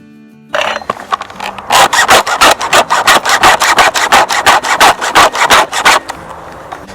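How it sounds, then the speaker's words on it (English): A chainsaw chain being sharpened with a Stihl chain sharpener: a steady run of about twenty-five loud, rhythmic rasping strokes, close up and without talk. "We're just going to sharpen it one more time with this and see how well it cuts."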